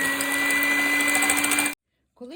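A steady electric mixer motor whirs loudly with a high whine for nearly two seconds while whipping egg whites, then cuts off abruptly, followed by a brief faint sound.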